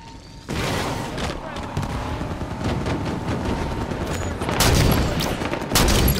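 Dense, loud bursts of gunfire and explosions rattle almost without pause during a multiplayer shooter video game firefight on a blue porch, with heavier blasts rising near the end.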